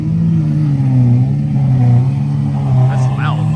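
A loud Lamborghini idles and rumbles close by at a Cars and Coffee meet, a steady deep engine drone with slight revving swells, and brief voices over it near the end.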